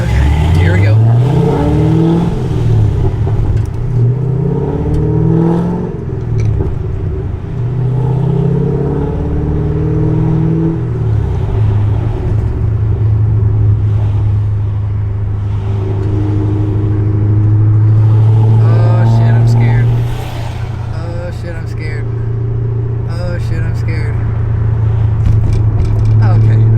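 A lowered stance car rolling at low speed with a steady engine drone and shifting tones as it bumps over a bridge joint, while a person talks continuously over the engine noise.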